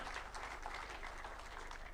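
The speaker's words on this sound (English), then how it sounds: "A round of applause" A symposium audience at KICC applauds, a brief, steady wash of many hands clapping heard at a moderate distance.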